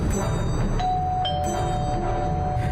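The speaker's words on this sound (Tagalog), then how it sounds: "nang tumunog ang doorbell ng bahay" A doorbell chimes with a two-tone ding-dong, the tones ringing on over a steady background hum.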